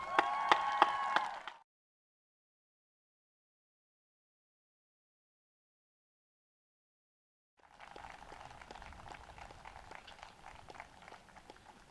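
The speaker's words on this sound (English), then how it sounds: "Students, please give your supporters a round of applause." Audience applause at a high school graduation ceremony: a burst of clapping that stops abruptly, then after a long silent gap a fainter, steady patter of applause returns.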